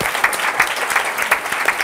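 Steady applause from a group at a hip hop and R&B panel, many hands clapping together in a dense, even patter.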